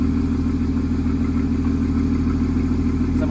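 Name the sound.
Porsche Cayman S 981 engine with exhaust valves open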